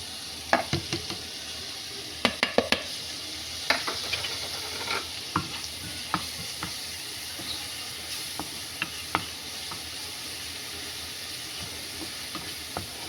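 Chopped onions fry in a mix of oil and a little butter, giving a steady close sizzle broken by sharp clinks and scrapes of stirring, busiest early and then spacing out.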